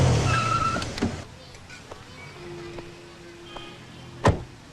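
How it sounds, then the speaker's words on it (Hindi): A car pulls up and stops on a street beside a pani puri stall; a broad engine rush fades within the first second, leaving a quiet hum and a sharp click near the end. "अरे एक मिनट गाड़ी रोको।"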